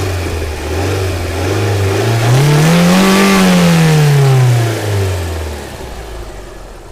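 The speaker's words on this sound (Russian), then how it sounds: "Давайте газанем, потому что заслонка тут у меня не электронная" An Alfa Romeo 156 engine with a cable throttle revs up from idle, rising smoothly to a peak and falling back down over several seconds, loud and close, with no talking.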